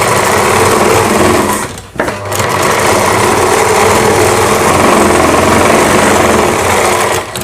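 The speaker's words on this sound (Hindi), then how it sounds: "और ऊपर सिलाई लगा देंगे।" A sewing machine stitching a blouse gives a loud, close, continuous mechanical whir that stops briefly and then restarts at the same steady pace.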